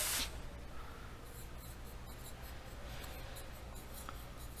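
Marker or chalk writing on a board during an engineering lecture on beam deflection, a steady scratchy stroking that continues through the whole stretch, close and moderately loud over low room hum.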